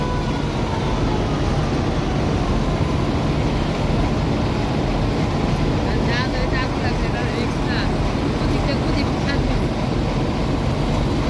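A passenger river launch pulls away from the ghat during the monsoon, its engine a steady loud drone under wind and water rush, with a few faint higher horn-like tones partway through.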